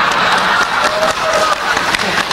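Audience applause during a talk on Islam and Pancasila, a steady dense clapping wash from a crowd that runs loud throughout, with voices mixed in.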